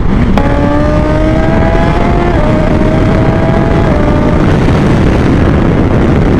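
A BMW S1000 XR motorcycle ridden fast, its engine roaring loud and close with a rising then shifting whine, steady and continuous under heavy wind rush.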